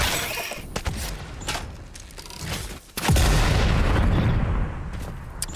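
Explosions and rapid gunfire in the video game Satisfactory, a dense crackling barrage that surges into a loud sustained blast rumble partway through.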